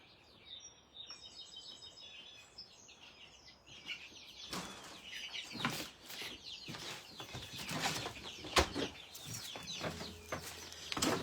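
Chickens cluck and squawk on a porch, starting as soft scattered calls and then building into a busier, louder flurry of overlapping clucks and flaps, fairly close.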